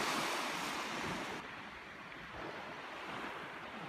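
Adriatic sea waves washing onto an eroding sandy shore at Kune, Shëngjin, after a storm, a steady wash of surf with wind buffeting the microphone, fairly faint and settling slightly after the first second.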